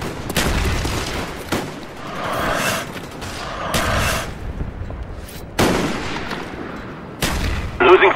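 Gunfire in the shooter game Black Ops: several separate bursts of shots across the clip, loud and close, with short quiet gaps between them and no talk.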